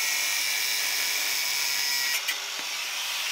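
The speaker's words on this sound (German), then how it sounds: "hier unten mit der Flex abschneiden" Angle grinder cutting off the tie rod end on an Audi A3 8L, a steady high-pitched whine that runs continuously before dropping off briefly near the end.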